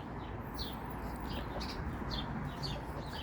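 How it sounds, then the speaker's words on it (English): Small birds chirp at a backyard bird feeder on a summer morning in Kamloops, BC, with short, bright high calls repeating every second or so over steady low outdoor background noise. "And a lot of birds are going into my bird feeder."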